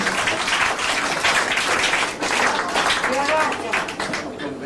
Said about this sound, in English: Give the gentleman a round of applause